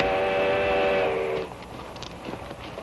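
A train whistle sounds one long, loud, steady blast that stops abruptly about halfway through, leaving a quieter rumble of the approaching train.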